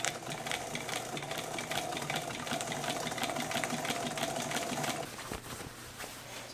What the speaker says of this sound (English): I'm just going to follow on the inside of the outer foot this seam and top stitch.